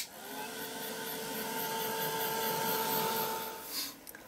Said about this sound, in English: I'm just going to give this a quick blast with my heat gun to make sure that it's all dry